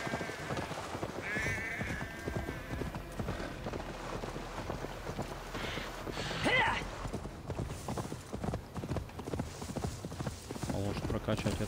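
Rhythmic clip-clopping of horse hooves in the video game Assassin's Creed Valhalla runs steadily throughout, with someone talking over it and occasional whooshing noise.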